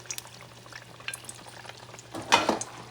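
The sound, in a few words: potatoes frying in oil for carne frita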